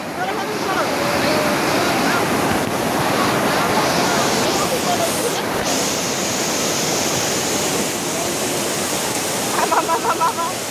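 A flowing river roars loud and steady close by, a broad unbroken rush of water that carries on throughout, with brief voices faintly heard over it near the end.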